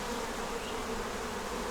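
Honey bees buzz steadily inside a hive super being filled with wax foundation, a dense, even drone held close and at low level throughout, with no voices.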